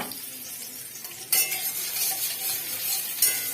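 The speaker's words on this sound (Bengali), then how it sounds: "তো দেখো ভালো করে ফ্রাই হচ্ছে যে ভালো করে ফ্রাই করে নিচ্ছি" Oil sizzles steadily in a wok with jute leaves frying, with two sharp scraping bursts as the leaves are stirred.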